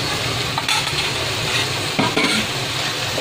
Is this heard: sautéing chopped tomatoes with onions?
yes